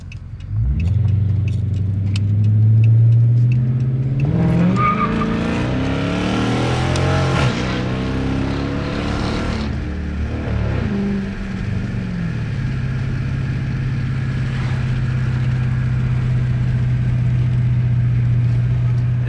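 A 2013 Dodge Charger with a muffler delete, resonator delete and K&N drop-in filter on a late-night drive, its loud raw exhaust droning at cruise, then swelling and revving higher before settling back to a steady rumble.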